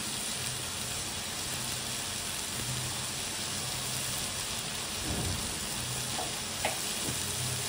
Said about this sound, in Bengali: তাই মা এখন এই সোয়াবিনটাকে সুন্দরভাবে কষিয়ে নেবে।